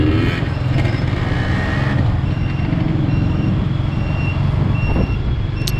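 Dense street traffic in Vietnam on a rainy day, with motorbikes and heavier vehicles rumbling steadily nearby and a continuous broadband engine and road roar filling the scene.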